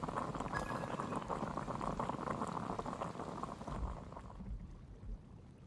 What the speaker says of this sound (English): I'll pour some water.